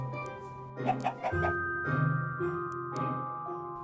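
Several short, clucking chicken calls in a video game come in quick bursts over a steady tonal hum, with a second cluster near the end.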